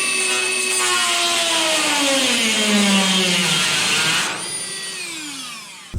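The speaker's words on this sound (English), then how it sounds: "I'm going to take the Dremel and make a little incision." A Dremel rotary tool cuts into the steel roof panel of a 1948 Ford being chopped, giving a loud, sustained high-pitched whine whose pitch sags under load before easing and tapering near the end.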